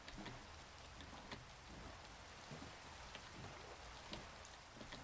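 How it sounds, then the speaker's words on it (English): Steady rain falls in the Minecraft video game, a soft, even hiss of drops throughout, quiet and alone with no voices. "Oh, it's raining again."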